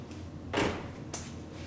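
Two doors on a Honda CR-V under body repair after a side impact, a nearby broad whooshing thud followed about half a second later by a shorter latch clunk, with no talking.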